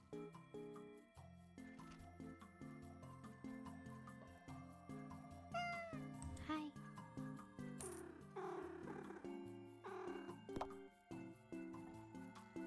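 Cats meowing in the Minami Lane video game: short cartoonish mews scattered over a looping, plucky background melody and soft game effects.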